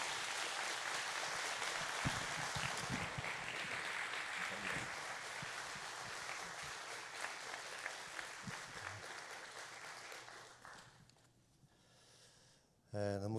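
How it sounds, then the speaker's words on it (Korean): A church congregation applauds at an autumn revival service, welcoming a guest pastor to the pulpit; steady, dense clapping fills the room for about ten seconds, then fades away before a brief burst of sound at the end. "우리 목사님 모실 때 큰 박수로 사랑합니다."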